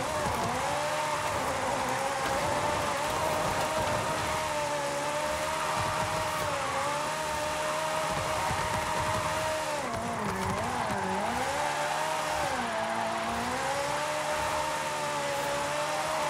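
Racing video game car drifting at an Italian automotive festival event, its engine droning steadily at a high pitch with whining tire squeal sliding up and down as the car swings through a turn, continuous and close.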